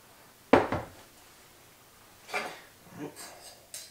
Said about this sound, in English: So I'm going to dump my ice out of my strainer